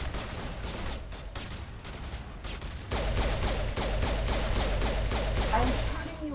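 Rapid gunfire bursts in the video game Mass Effect, loud continuous volleys with sharp cracks throughout, intensifying in the second half, while a player talks over the shooting.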